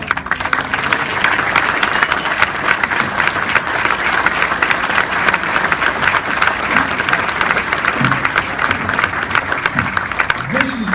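Sustained audience applause at an award ceremony honoring a 2015 Indiana Pacers Silver Medal winner, steady dense clapping from a crowd throughout, with some voices faintly mixed in.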